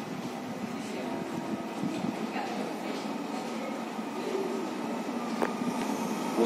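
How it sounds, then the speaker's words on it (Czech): A passenger train on a Slovak line from Trenčín gives off a steady rumbling drone, with faint squeals and a brief high screech near the end. "Osobní vlak zo směru Trenčín Zlatouce, který pokračuje směr Půhou."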